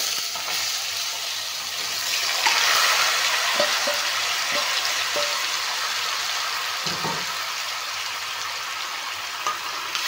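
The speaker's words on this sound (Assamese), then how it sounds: "মাংসখিনি অলপমান ভাজি ল'ম" Pieces of local chicken frying in hot oil with bay leaves in a pan, giving a continuous, even sizzling hiss with a few faint clinks and stirs throughout.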